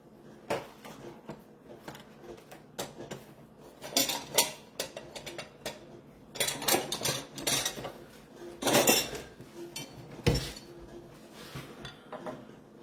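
A metal measuring spoon clinks and scrapes against dishes and a pot while coconut aminos go into a beef stew in a home kitchen, with scattered close, sharp taps and rattles, some louder bursts, and occasional drawer-like knocks.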